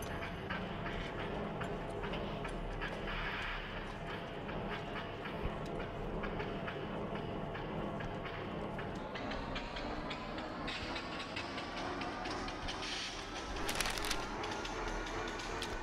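A train in the Mashinky game rolls along steadily on a test run, a dense continuous rumble with rhythmic clicking of wheels over track, no speech.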